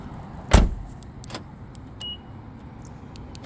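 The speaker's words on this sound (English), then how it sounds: "I'll go ahead and get out of the car here real quick." A Honda car door thumps shut close by with one sharp bang, followed by faint clicks and a brief electronic chirp in a quiet setting.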